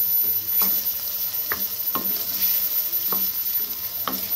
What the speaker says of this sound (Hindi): तकरीबन 3 से 4 मिनट हम इसको अच्छे से भूनेंगे दोनों चीज़ों को बहुत अच्छे से